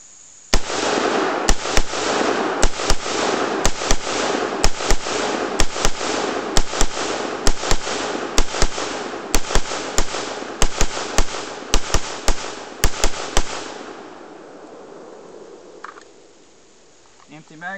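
An AR-15 rifle with a Caldwell brass catcher attached fires about twenty loud shots in a steady, fairly quick rhythm, each with a short echoing tail, and the last one rings away into quiet.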